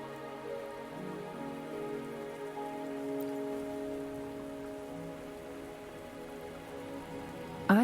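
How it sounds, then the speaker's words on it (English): Steady rain patters in the video game Wuthering Waves, a soft even hiss of drops on surfaces under a quiet sustained musical tone, ending with a short louder chime. "Are you trapped here by the rain?"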